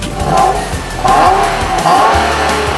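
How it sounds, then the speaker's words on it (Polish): An Infiniti G37S V6 engine rumbles and revs in surges, loud and close, with a throaty low bass growl rising and falling. "A na deser basowy bulgot V6."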